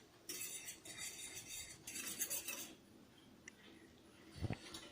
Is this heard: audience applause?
no